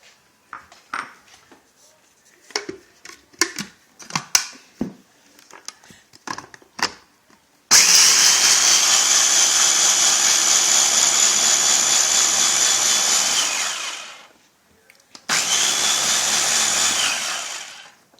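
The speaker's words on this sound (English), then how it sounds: "I'm gonna mix it in my blender." An electric blender whirs loudly, mixing soaked sticky rice with a little water for Lao bamboo shoot soup, running about seven seconds, pausing briefly, then starting again, after scattered kitchen clatter.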